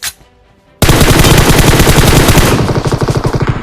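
Automatic gunfire in a shooting video game erupts after a brief quiet moment into a loud, close, continuous rapid burst that lasts about three seconds, with no talk over it.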